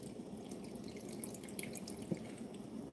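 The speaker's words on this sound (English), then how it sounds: "I'm only going to put 1/4 of an inch of water on the bottom." Water running steadily into a pot holding collard greens, a thin continuous splashing and trickling that fills the whole moment, close by with no speech.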